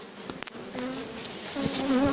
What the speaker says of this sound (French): Il y a quelques abeilles qui me tournent autour, mais sans plus, sans attaquer.